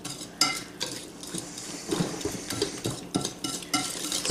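A utensil stirs a meatloaf mixture of garden ingredients, salt and pepper in a bowl, making quiet, irregular scrapes and soft clinks against the dish in short bursts, close by and with no talking.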